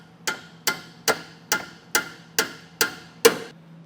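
A bent metal tab on a Blue Ox base plate kit, fitted to a 2023 Ford Maverick, is knocked back into place with seven sharp, evenly spaced metallic taps about half a second apart. They are close and clear, with no talk.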